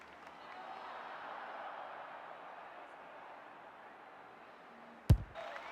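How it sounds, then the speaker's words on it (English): Stadium crowd in the AFL 26 football video game, a broad, steady roar of spectators at moderate level, ending in a sharp loud impact near the close. "The crowd noise tells you all you need to know."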